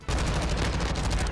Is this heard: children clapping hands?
no